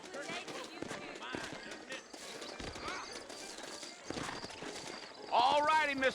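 Horse hooves clip-clop in Red Dead Redemption, with a whinny rising near the end, mixed under steady talking and game ambience.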